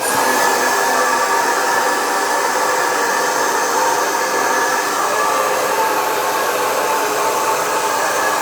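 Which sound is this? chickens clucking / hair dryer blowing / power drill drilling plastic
hair dryer blowing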